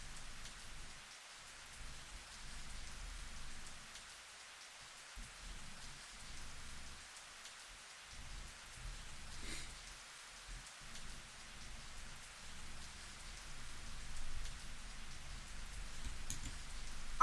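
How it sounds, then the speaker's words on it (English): Rain falls steadily on trees in the Higurashi: Yoigoshi video game, a soft, continuous patter with faint distant rumbles, at a low level throughout with no voices. "I couldn't hear anything but the sound of the rain striking the trees and our footsteps on the muddy road."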